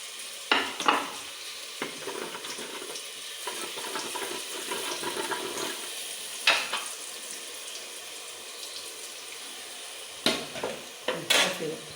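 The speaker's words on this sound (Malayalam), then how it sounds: "തീ കുറച്ചിട്ടിട്ട് വേണം ബോൾസ് ഫ്രൈ ചെയ്യാനായിട്ട്" Steady bubbling sizzle of batter balls deep frying in oil over low heat, continuous and close, with occasional sharper clinks and scrapes of a utensil against the pan.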